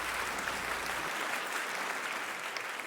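Steady applause from an audience, many hands clapping in a continuous, even wash at moderate distance for about three seconds, with no talk over it.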